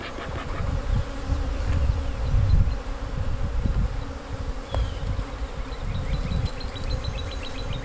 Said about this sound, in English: Just shake those bees off.